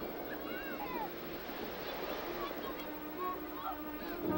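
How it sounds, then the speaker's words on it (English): Small waves lap steadily on a dirty sandy lake shore, a continuous wash of surf with faint distant shouting and voices mixed in. "the sounds of the lapping surf from the lake"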